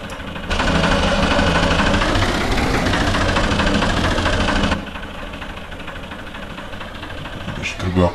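Tractor engine in Farming Simulator 22 starts and runs, a steady loud diesel drone with rattling vibration that cuts to a lower idle, while someone speaks over it.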